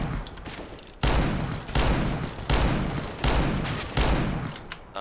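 Rapid bursts of automatic gunfire in the video game CS:GO, loud, close volleys recurring roughly every second with brief gaps between them, no talking over the shots.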